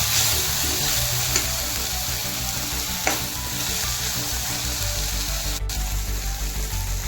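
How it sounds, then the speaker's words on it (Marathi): Spring onion greens stir-fried with red chilli powder, turmeric and salt, a steady loud sizzle with a few scraping stirs of a spoon in the pan, no voices. "1 चमचा लाल तिखट, हळद आणि चवीनुसार मीठ घालून परतायचं."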